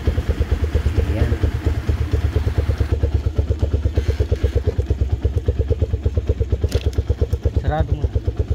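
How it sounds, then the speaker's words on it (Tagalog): A Mojo 200 motorcycle idles close by with a rapid, even, pulsing thump and a light mechanical clatter throughout, under a few brief bits of talk. "Ayan yung gamit nating motor, si Mojo 200"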